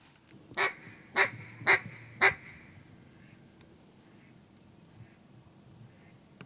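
Mallard ducks quack four times in a quick series, loud and fairly near, during an early-morning duck hunt, followed by a quiet outdoor background.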